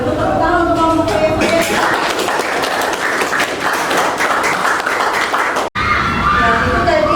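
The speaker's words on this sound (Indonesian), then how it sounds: "Tepuk tangan untuk kelompok Koya." Classroom audience claps for a student group that just presented, sustained dense applause that fades, with a brief cut and a voice speaking at the start and end.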